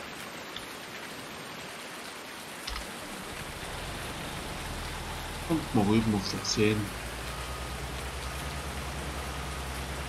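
Steady broadband rain hiss from the Farming Simulator 19 game world, a continuous patter throughout with someone speaking German briefly over it midway.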